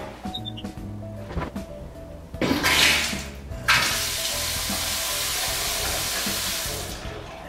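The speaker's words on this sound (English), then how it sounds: "So let's just turn the water back on." Water gushes from a faucet being turned back on during leak repair, a broad steady rush starting partway through after a few clunks and handling noises, running on loudly and evenly to the end.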